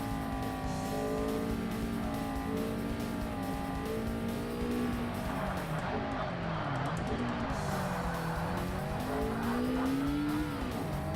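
A Vauxhall car drives in Forza Motorsport on the original Xbox, its engine rising and falling through gear changes over a continuous road roar, with tire squeal and a person talking over it.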